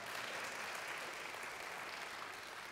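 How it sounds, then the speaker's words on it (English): An audience applauds a guest speaker at a special event, producing a dense, continuous roar of clapping that holds steady from start to finish, heard faintly and from a distance. "Let's applaud for him again."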